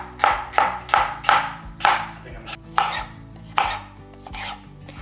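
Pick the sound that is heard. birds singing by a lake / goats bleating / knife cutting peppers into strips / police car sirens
knife cutting peppers into strips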